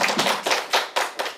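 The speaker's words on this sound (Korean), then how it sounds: "한번 박수 하시면서 시작해 볼까요?" A short run of sharp, evenly spaced claps at a disability culture and arts performance forum, about six quick bursts in a steady rhythm, fairly close and moderately loud, with no voices.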